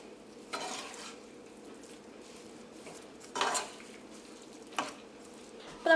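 A spoon stirs erissery of yam and raw banana mixed with roasted coconut in a pot, giving three or four distinct scraping strokes over a faint background hiss.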